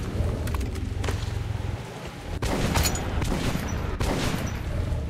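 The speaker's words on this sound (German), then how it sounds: "Der Sturm hier draußen ist echt merkwürdig." A thunderstorm rages outdoors in the video game Metro Last Light Redux: a steady, loud wash of rain-like noise, broken by a few sharp, booming cracks and rumbles that cut in and out.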